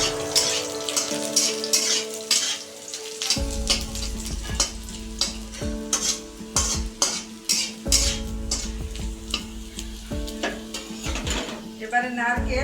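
Garlic frying in a pan while coconut is added, a loud steady sizzle with repeated scraping and clinking of a metal spatula stirring against the pan in an irregular rhythm, close and continuous.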